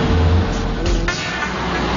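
A Mercedes-Benz SLR McLaren 722 hypercar drives past on a road as a loud, steady engine and road roar, up close for about two seconds.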